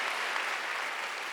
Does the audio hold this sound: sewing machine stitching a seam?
no